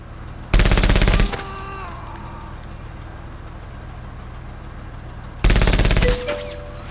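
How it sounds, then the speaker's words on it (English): A chain gun in the turn-based squad tactics game Menace fires two loud, rapid, dense bursts, each under a second long, separated by several seconds of low background hum. "I've got the chain gun again."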